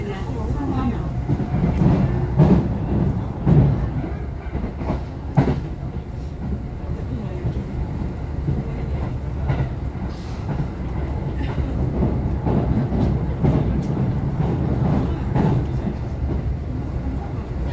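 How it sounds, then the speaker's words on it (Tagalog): A Kintetsu Rail train running between Yatomi and Nagoya area stations: a steady, loud interior rumble and rattle of wheels on track, with faint rhythmic clacks and an onboard announcement voice over it. "After leaving Yatomi, this train will be stopping at Sawano."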